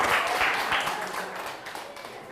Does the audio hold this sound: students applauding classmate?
yes